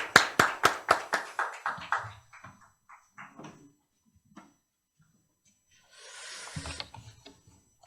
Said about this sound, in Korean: 우리 하상훈 목사님 박수로 환영하도록 하겠습니다.